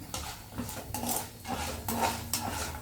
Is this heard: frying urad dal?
yes